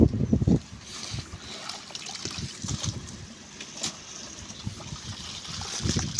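Irrigation water flows and trickles across a crop field in a Punjabi village, a steady splashing gurgle with a louder burst at the start and no talk over it.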